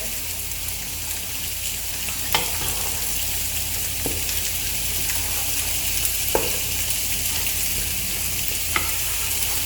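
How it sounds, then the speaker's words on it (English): Stockfish being stirred into a pot of ndole over the heat, a steady sizzling and bubbling simmer with a few sharp scrapes and clinks of the spoon against the pot, close and moderately loud, no talking. "I will be adding my stock fish now. Give it a good stir."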